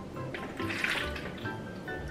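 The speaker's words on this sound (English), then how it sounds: "Go ahead, pour the vinegar in here" Vinegar poured into a toy cauldron set on a baking sheet, a short splashing, bubbling trickle of liquid lasting about two seconds, fairly soft and close.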